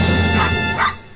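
A pet dog gives a couple of short yipping barks, close and fairly loud, with no talk over them.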